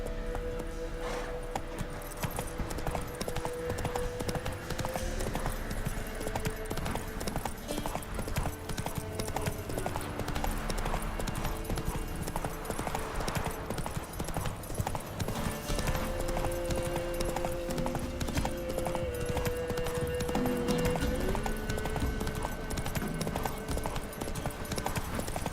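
Horse hooves clip-clop in a steady galloping rhythm throughout a scene in The Witcher 3 video game, with soft ambient tones and music underneath.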